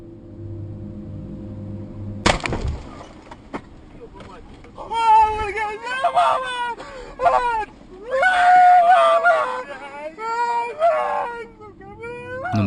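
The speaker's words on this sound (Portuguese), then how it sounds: "só conseguimos ouvir os gritos de desespero da família" Dashcam recording inside a vehicle during an incident: a sharp impact burst, then a family's distressed screams and wailing cries rising in repeated loud bursts over low road rumble.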